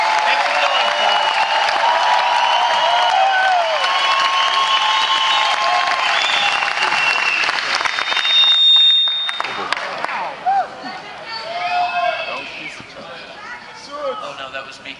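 Studio audience at a seminar applauds and cheers for a guest, loud, dense, sustained clapping for about eight seconds, then it thins out into scattered claps and crowd chatter.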